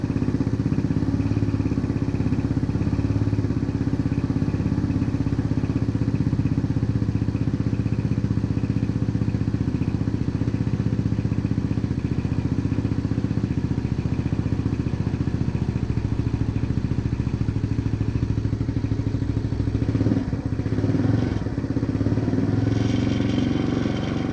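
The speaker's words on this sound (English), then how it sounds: "I'll get the bike started" A BMW K100 motorcycle engine idles steadily and close by for the whole stretch, a dense even drone with faint mechanical clatter, briefly shifting near the end without any talk.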